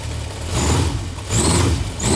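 A completed Honda CB motorcycle with a four-pipe exhaust, racing-tuned engine and Yoshimura carburetors revs in three loud, close surges, its deep rumbling exhaust rising and falling with a rough idle between blips.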